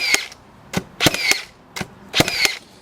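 A Makita 18V cordless framing nailer fires nails in sharp, close snapping shots, five in under three seconds with uneven spacing and brief mechanical ringing after each.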